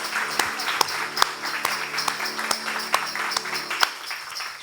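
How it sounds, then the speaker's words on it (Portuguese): A church congregation claps together in a steady, even rhythm, a little over two sharp claps per second, over a sustained musical tone and a softer wash of scattered clapping. "Uma salva de palmas para Jesus."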